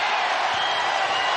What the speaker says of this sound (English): crowd at a feverish pitch